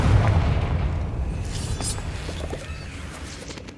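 A Confringo blasting spell explodes in the video game Hogwarts Legacy with a loud, deep boom at the very start. Its rumbling tail slowly fades over the next few seconds.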